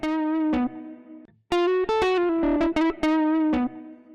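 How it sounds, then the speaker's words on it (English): Distorted, saturated electric guitar through a preamp saturation plugin, playing sustained notes and short chords, with a gritty, harmonically rich tone and brief gaps between phrases. "It sounds like the guitar has been fed through a classic preamplifier."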